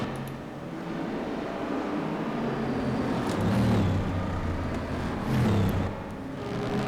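A Group 5 race car in RaceRoom at the Macau circuit accelerates hard, its engine note rising and surging through gear changes in a loud, continuous drone.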